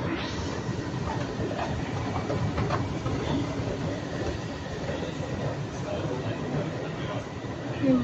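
Interior of an MRT train bound for Changi Airport, a steady rumbling roar of wheels on rail with faint rhythmic clicks and a brief wheel squeal near the end, heard from inside the carriage.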